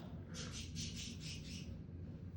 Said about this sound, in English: if you hear my birds, I guess you're just going to hear them